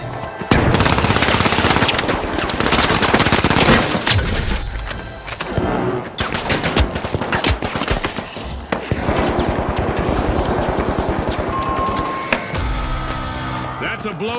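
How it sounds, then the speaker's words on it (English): Gunfire from The Finals video game plays as dense, loud bursts of automatic shots and booming blasts, which may include a flashbang, over a voice talking throughout. "Using a flashbang."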